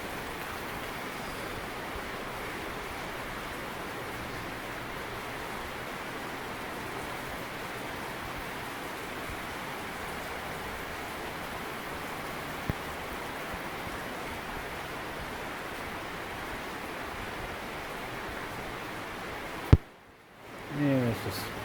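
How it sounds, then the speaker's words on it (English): Heavy rain pours on a house under construction with OSB walls and roof underlayment, a steady, dense hiss of rainfall continuing unchanged for about twenty seconds before a sudden handling thump and break near the end. "Pouring rain."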